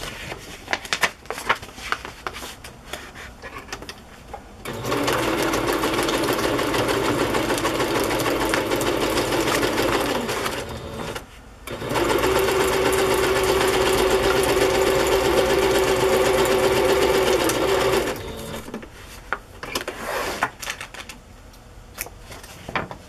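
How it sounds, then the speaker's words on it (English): A sewing machine stitches embellishments down onto a chocolate-themed journal in two long, steady whirring runs separated by a brief pause, with small handling clicks and rustles before and after. "I'm just going to sew those down there like that."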